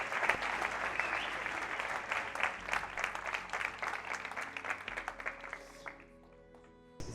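A seated audience at a French-language mastermind event bursts into sustained, dense applause that stays loud for several seconds before tapering off near the end.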